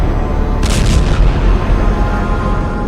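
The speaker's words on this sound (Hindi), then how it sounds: "लेबनान के ये धमाके" A heavy, booming explosion in Lebanon rumbles low and loud, with a brief crackling burst early on, then a sustained deep roar.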